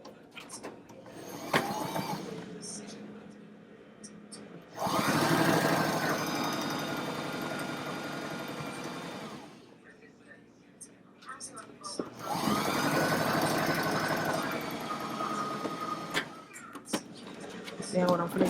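A sewing machine stitches across the bottom of a fabric face mask in two long bursts of whirring, separated by quieter pauses with a voice talking nearby.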